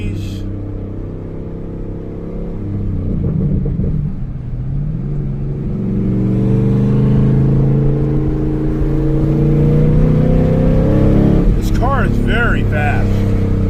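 A Chevrolet Camaro Z28 with a naturally aspirated engine accelerates hard along a road beside Jersey barriers, a loud sustained rising drone heard from inside the car, with a person talking over it.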